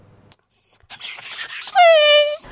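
Dogs at a shelter near Noginsk give short yips, then rising whimpers that turn into a loud, drawn-out whining howl, close by, with no talking.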